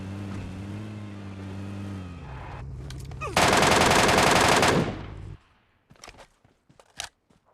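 AWM sniper rifle gunfire in a PUBG-style mobile battle royale game: a loud, sustained burst of firing after a low engine-like drone, then several sharp, scattered shots and clicks in the game's soundscape.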